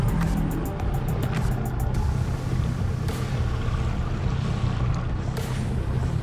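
A boat motor drones low and steady throughout while striped bass fishing, mixed with wind buffeting and water noise, plus a few faint clicks early on.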